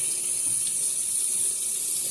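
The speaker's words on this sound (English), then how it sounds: "Make sure the water's blasting." A tap runs at full blast, a loud, steady hissing gush of water that stays constant the whole time with no voices.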